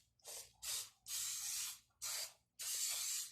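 Oil sprays into a baking pan in five short hissing bursts, steady and close, with brief pauses between them.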